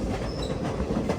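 Mussoorie Express rolling into Delhi Shahdara Junction, a steady rumble of rail wagons with faint rhythmic wheel clatter, close and continuous with no voices.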